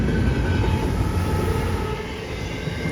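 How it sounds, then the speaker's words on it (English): A CSX freight train hauling Teslas on the Henderson Subdivision rumbles past close by, a loud, continuous, steady roar of rail cars without breaks or voices. "this train are carrying Teslas, which come from California down, and they're headed for Jacksonville"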